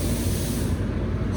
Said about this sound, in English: Getting ready to spray on the cab.